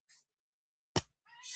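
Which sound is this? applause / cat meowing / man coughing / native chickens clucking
cat meowing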